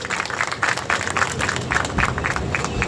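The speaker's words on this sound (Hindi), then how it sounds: "जोरदार ताली" Steady applause from a crowd at an outdoor tree-planting event in Kidwai Nagar, dense clapping at an even, sustained level throughout with no voices standing out.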